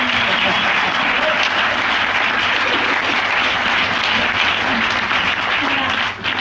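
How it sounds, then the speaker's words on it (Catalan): Audience applause filling a hall as a guest named Amaya Jackson is welcomed, loud continuous dense clapping sustained for several seconds before easing slightly at the end. "Sisplau, un aplaudiment."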